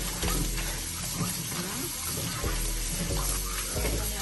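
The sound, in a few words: washing meat under running tap water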